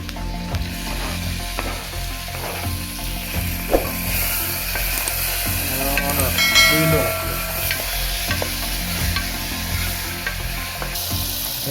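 Onions and tomatoes sizzle steadily in a pan while a utensil scrapes and stirs with irregular clicks and knocks. The frying is loud and close, with no talking.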